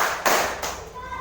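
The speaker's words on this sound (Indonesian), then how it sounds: "Tepuk 1, tepuk 2," Students in a classroom clap in unison on a teacher's count, giving two sharp, loud claps about a third of a second apart, followed by a fading room tail.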